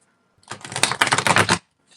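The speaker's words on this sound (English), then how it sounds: "Just give that a quick shuffle before I put that one away." A tarot card deck is given a quick, close shuffle: one dense burst of papery card riffling lasting about a second, heard alone against a quiet room.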